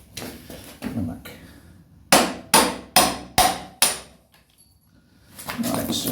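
Five loud, evenly spaced hammer blows ring out close by, with muffled background noise before and after.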